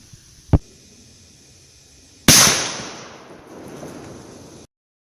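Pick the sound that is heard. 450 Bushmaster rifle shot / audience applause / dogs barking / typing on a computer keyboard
450 Bushmaster rifle shot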